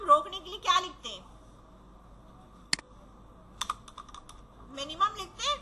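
A few sparse keystrokes on a computer keyboard as numbers are typed in, with someone speaking before and after the short bursts of clicking.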